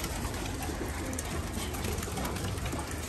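Homing pigeons of pure pedigree breeds on a rooftop loft coo steadily amid a dense, continuous flock murmur, with no talking.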